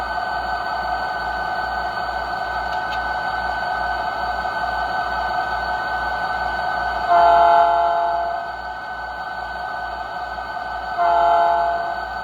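A USA Trains SD40-2 model locomotive idles in its original, unmodified state, giving a steady loud diesel drone with a pulsing low rumble, twice broken by short horn-like tones.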